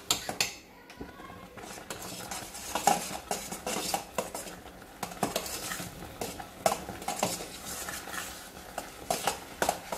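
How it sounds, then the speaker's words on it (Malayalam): Semolina (rava) stirred in a pan of boiling water, with busy scraping and clinking of a metal spoon against the pan, close and continuous, and faint sizzling underneath. "അതിലോട്ട് നമ്മൾ റവ ഇട്ട് കൊടുത്തിട്ട് ഒന്ന് വാട്ടിയെടുക്കാം"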